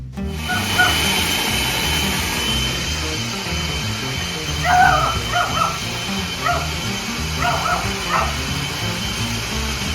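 A dog barks and yips repeatedly, in short bursts and with some whimpering, over the steady loud hum of a kitchen food processor churning homemade peanut butter.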